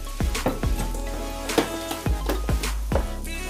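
Chopped peppers and onions sizzle loudly in a pan with half-cooked bacon, with repeated metallic stirring scrapes in an uneven rhythm over the steady frying hiss.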